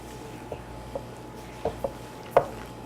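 Strawberries and sugar are mixed together in a bowl, giving a handful of soft, separate taps and squishy knocks, about five spaced over a few seconds, against a faint low hum.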